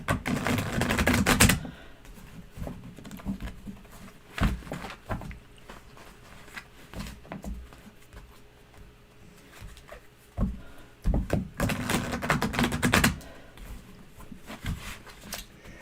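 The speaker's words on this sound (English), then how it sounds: "Make you shuffle a fat deck, Mr. O." Thick deck of tarot cards being shuffled, with two loud riffling bursts at the start and near the end and softer scattered card taps and handling in between, close by with no talk.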